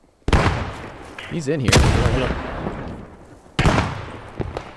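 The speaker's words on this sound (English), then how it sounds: "A lot of people are shooting south." Gunfire in a WW2 shooter video game: loud sharp shots crack near the start, middle and later, with scattered distant firing between and a player talking over it.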